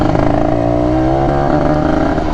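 A motorcycle engine revving loud and close, a steady rough roar with a strong harmonic drone throughout a brief burst.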